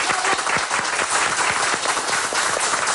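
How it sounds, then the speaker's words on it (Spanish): A television studio audience applauds steadily and loudly throughout, a dense wash of many hands clapping for a band and a musician. "Un aplauso, por favor."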